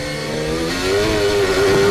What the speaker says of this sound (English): The revs just suddenly rise as he tries to correct the rear end of that McLaren from spinning out into the gravel